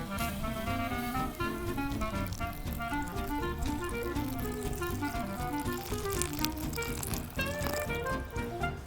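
Hot water from a Sigg bottle water heater poured outdoors into a freezer bag, a steady continuous trickling pour lasting several seconds with no talk.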